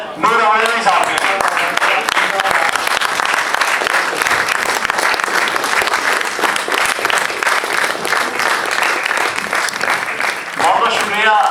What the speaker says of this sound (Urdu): کیا یہ نہیں ہو سکتا کہ ایک دفعہ ہم کھڑے ہو کے اس کے لیے تالیاں بجائیں